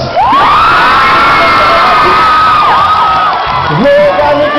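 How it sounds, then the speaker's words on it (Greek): Concert crowd at a live show in Elefsina cheering and screaming loudly, with sustained high-pitched shouts and whoops close by and a dense roar underneath, with little clear clapping. "Ένα χειροκρότημα για σας."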